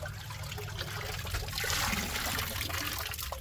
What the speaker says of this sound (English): Drain your shovelfuls.